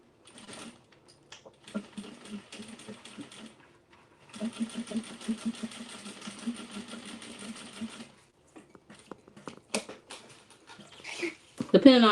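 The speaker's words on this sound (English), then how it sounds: "Sew them down. Attach these pieces together." A sewing machine stitches denim tote bag pieces together in two runs, a short early burst and a longer steady one, followed by scattered handling clicks.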